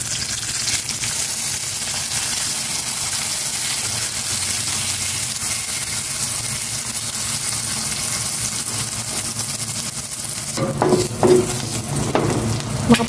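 Hotdog frying in a pan, giving a continuous close sizzle and spatter throughout, with a few louder clinks and stirring knocks near the end.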